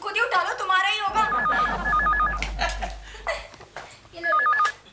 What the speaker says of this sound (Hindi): कब से फोन बज रहा है, कोई उठाता क्यों नहीं?